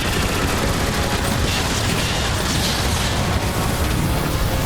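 Enemy guns firing in Transformers: War for Cybertron, a dense, continuous barrage of loud gunfire and blasts filling the whole stretch without pause.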